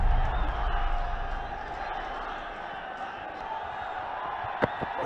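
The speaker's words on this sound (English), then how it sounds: "Crowd erupting." At a Nepal versus Netherlands cricket match, a stadium crowd roars and cheers after a big hit. The broad noise swells at first, then eases while a commentator talks over it.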